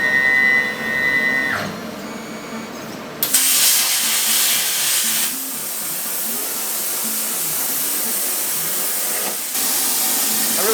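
A homemade CNC machine cuts into steel with a loud, steady hissing, grinding whine that stops and restarts in sections, close by with little else heard.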